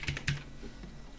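Keys clack quietly on a computer keyboard while someone writes code: a couple of quick, distinct taps, then softer presses trailing off, close but faint.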